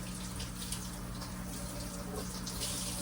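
Cold water runs steadily from a kitchen tap as homemade butter is rinsed under it, a continuous close splashing hiss with no talk.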